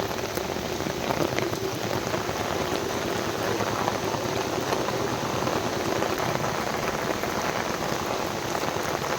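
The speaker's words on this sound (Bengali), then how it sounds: "এত জোরে বৃষ্টি হচ্ছে" Heavy rain pours down steadily on a road, a dense close hiss and patter of drops, unbroken throughout with no voices.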